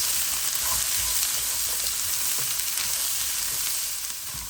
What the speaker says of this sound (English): I'll add in my onions now. Give this all a nice mix and let it cook for about a minute.